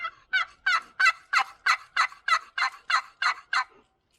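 A Lynch wooden box turkey call, nearly 40 years old, played loud to imitate a young jake turkey: a steady run of about twelve sharp, raspy yelps, close and prominent, with no voices.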